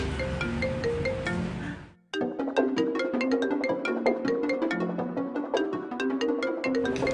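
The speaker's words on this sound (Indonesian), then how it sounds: "itu ada telepon kok nggak diangkat sih?" A mobile phone ringtone playing a bright electronic melody, loud and close, with a short break in the middle before the tune starts again and keeps repeating.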